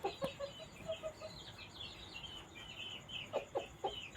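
Chickens cluck in short, scattered bursts against a steady outdoor background, with a few sharper calls near the end.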